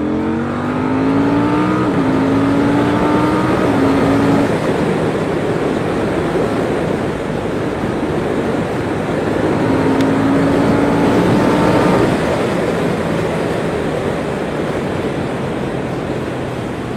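A Triumph 1050 Speed motorcycle accelerates through several gears, the engine note rising and stepping down with each shift under loud wind rush, then climbing again later in the run.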